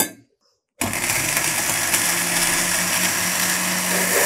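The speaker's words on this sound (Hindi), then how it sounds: "इसको ब्लेंड करके आपको बताती हूँ।" Blender blending a date and milk drink, starting abruptly after a brief silence and running as a steady loud whirring motor with a sustained hum.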